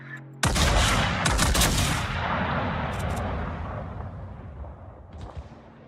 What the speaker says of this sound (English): is that the Marceau shooting you